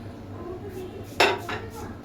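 Spiced beef in a pot, with ground almonds, nutmeg and mace added, is stirred with a metal utensil: one sharp clink and a short scrape against the pot, close by over a low background hum.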